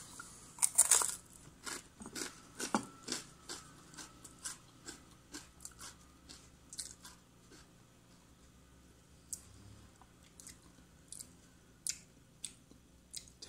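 Someone chews homemade coconut spread made from coconut flakes, producing close, irregular soft crunches and mouth clicks, faint and sporadic with pauses between.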